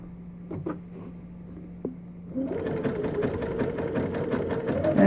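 A sewing machine stitching around an owl pot holder starts after a couple of faint clicks, then runs at a fast, steady mechanical whir that grows slightly louder.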